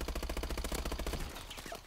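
Automatic weapon fire in Advanced Warfare: a fast, evenly paced stream of shots rattles for over a second, then stops and leaves faint game sounds behind.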